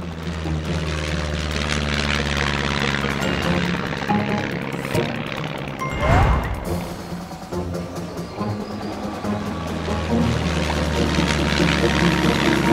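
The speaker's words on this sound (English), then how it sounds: "It's an airplane. Of course. Now you can really fly." Cartoon airplane taking off: a steady propeller-engine drone with music and playful effects, swelling in a whoosh near the middle and continuing loud throughout.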